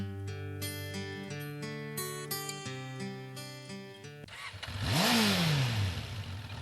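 An old motorbike engine starts up and revs after a stretch of tonal music, rising to a loud, close roar with a sweeping pitch climb near the end.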